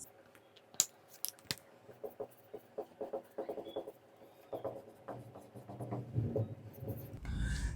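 Chalk or marker scraping across a classroom board as a teacher writes notes, a run of short strokes and taps, fairly close and moderately loud, with no talking over it.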